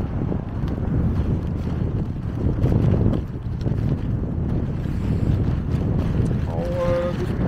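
Strong wind and headwind buffeting a microphone while someone cycles with four bags of empty bottles, a steady rough rumble throughout with a brief voice near the end.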